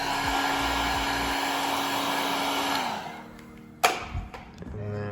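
A cheap handheld heat gun blows steadily, loud and near, as it warms vinyl wrap on a race car's wing, then cuts off around three seconds in, followed by a sharp knock and a few faint handling sounds.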